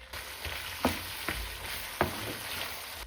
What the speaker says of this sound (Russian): Теперь добавляю в сковородку болгарский перец.